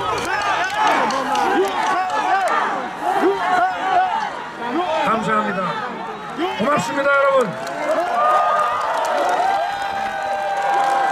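A large, dense crowd at a Masan election rally cheers and shouts loudly and close, a continuous roar of many voices with a speaker briefly addressing them over it.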